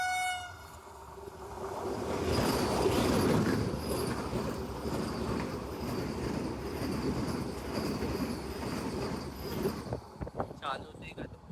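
Vande Bharat express passing close beside a halted passenger train in India, a steady loud rush of rolling wheels with a horn tone early on, fading and ending with a few sharp clacks.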